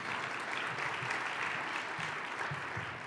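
Steady applause from an audience at a business award ceremony, a dense even patter of many hands clapping throughout with no voices over it.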